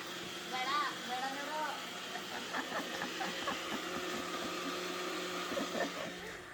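An electric mixer grinder whirs steadily in a jar at home, grinding chopped mutton masala ingredients for a Deepavali meal, a low, fairly quiet hum running throughout while a person talks over it.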